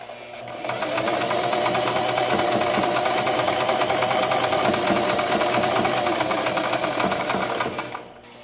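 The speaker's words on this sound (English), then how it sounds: "I'm going to start sewing" Close, steady mechanical whirring of a sewing machine stitching fabric for a mask, running continuously for several seconds with a rapid regular needle rhythm before stopping, no voices.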